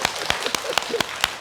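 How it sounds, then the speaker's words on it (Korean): Audience members at a Korean Buddhist temple service clapping, a handful of separate, sharp claps in an uneven rhythm at close range. "박수 한번 이렇게"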